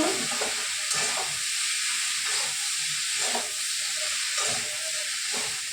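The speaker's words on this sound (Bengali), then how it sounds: "চাল কুমড়োটা ভাজা ভাজা হয়ে গেছে," Ash gourd frying in a pan with white cumin, a steady bright sizzle and hiss with repeated scraping stirs of a spatula every second or so, close and fairly loud, no talking.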